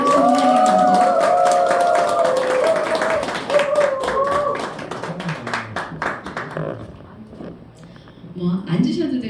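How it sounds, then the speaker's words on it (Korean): An audience at a book concert claps for the author coming onstage, a run of brisk handclaps that thins and fades toward the end, with a voice speaking over the start. "큰 박수 부탁드립니다."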